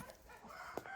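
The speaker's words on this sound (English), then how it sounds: "you hear that hen who just laid an egg" A hen on a farm clucks faintly and at a distance just after laying an egg. A brief squawk stands out among soft, scattered calls.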